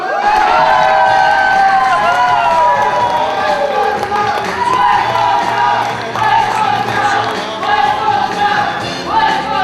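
A poetry slam audience in Poitiers cheers, whoops and shouts loudly and continuously for a performer, with a voice calling out over the crowd.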